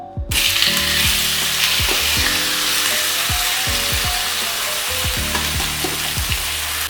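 Marinated chicken breast frying loudly in a pan, a dense continuous sizzle close up, with occasional sharp clicks and taps from the pan throughout, no voices.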